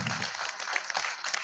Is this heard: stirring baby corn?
no